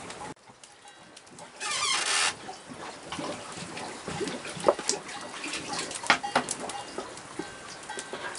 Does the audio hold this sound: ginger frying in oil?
no